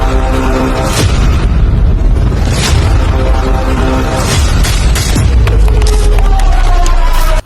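A tractor works a village field for wheat sowing after the rice harvest, giving a loud, continuous engine rumble with wind buffeting throughout.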